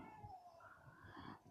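A pet cat indoors in a bedroom gives a short, faint meow, a single drawn-out cry heard alone in a quiet room.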